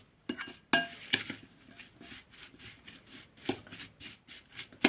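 Light clinks and scrapes of a spoon against a bowl while stirring a vinegar marinade, irregular and close, with a few sharper taps mixed in.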